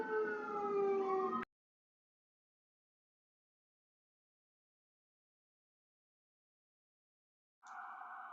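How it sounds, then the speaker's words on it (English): A fire engine siren on a main route past a house, wailing briefly at the start before cutting to silence, then returning as a steady tone near the end. "I'm muted because of the fire engine"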